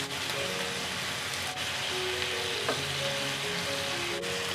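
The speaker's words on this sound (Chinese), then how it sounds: "中小火焖到收汁，汁差不多收干的时候把锅给它翘起来" Pineapple chicken steak sauce simmers and reduces in a pan over medium-low heat, making a continuous close bubbling sizzle with a few faint clinks, no talking.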